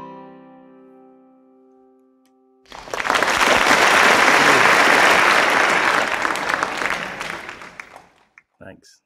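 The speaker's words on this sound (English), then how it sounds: "Thanks for that applause." Audience applause at a folk club, a dense sustained burst of clapping that swells loudly after a fading sung note and then tapers off.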